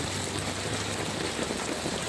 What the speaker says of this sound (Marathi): एवढा पाऊस येतो बघा